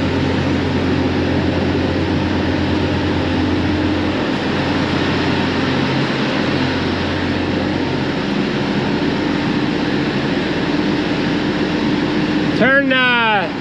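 The cutter head of a machine runs after being switched on with a yellow PTO switch, giving a loud, steady mechanical drone that fills the whole stretch, with a short whine-like sweep near the end.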